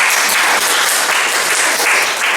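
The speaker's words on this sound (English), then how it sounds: "Applaud if you believe it." Dense, steady applause from an audience at a student comedy gig, a loud continuous wash of clapping that fills the whole moment without pause.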